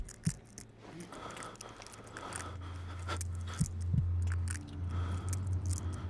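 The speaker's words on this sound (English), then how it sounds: "What is that crunching shit?" Crunching, chewing-like game sound effect from Amnesia: The Dark Descent, a run of wet bites and crunches with a heavy low throbbing underneath, growing louder and denser toward the end, heard without any talking.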